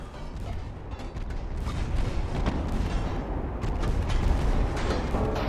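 Heavy naval guns of warships in the game Ultimate Admiral Dreadnoughts fire in a dense, continuous rumble of deep booms that rolls on steadily for several seconds with no talk.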